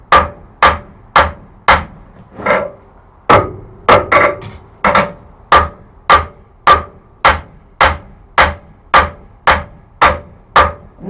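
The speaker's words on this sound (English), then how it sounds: "Before we turn it over, we're actually going to do some peening on it." A hammer peens the edge of a hand-forged colonial wrapped-eye tomahawk on an anvil, about two dozen sharp metallic strikes in a steady, even rhythm with a brief irregular cluster midway, loud and close with no talking.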